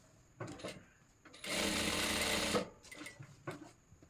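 A sewing machine stitches a lap seam on formal trousers: a few short stitching bursts, then one steady, loud run of about a second, followed by more brief starts and stops close by.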